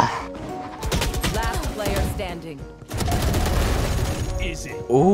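Gunfire in the video game Valorant comes in rapid, dense bursts of shots, loud and close. There is a short pause between the two main volleys, with a player's voice mixed in.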